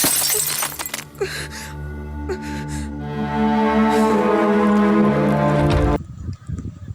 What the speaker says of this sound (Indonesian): Ruby yang sedang mabuk langsung melemparkan botol minuman pada Saru